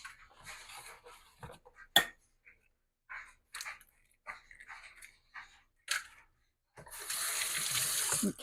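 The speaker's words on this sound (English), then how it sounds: "rinse the egg off my fingers" Tap water at a kitchen sink rinsing raw egg off fingers while making quiche, with scattered small clatters and handling noises before a steady, close rush of running water fills the last couple of seconds.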